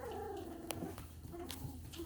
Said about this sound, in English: barking and growling